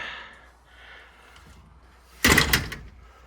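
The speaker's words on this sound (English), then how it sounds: "I'm just gonna scooch back to get the door." After a quiet stretch with faint rustling, a door is pulled shut with one loud, close thud and a brief rattle that fades quickly.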